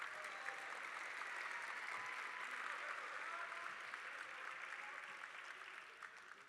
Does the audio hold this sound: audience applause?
yes